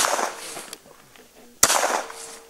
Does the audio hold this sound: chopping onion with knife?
no